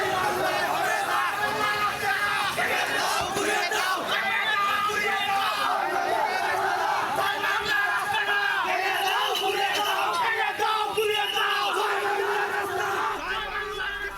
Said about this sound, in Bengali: স্থানীয় ছাত্রদল ও যুবদল লাঠিসোঁটা নিয়ে দালাল দালাল স্লোগান দিতে থাকে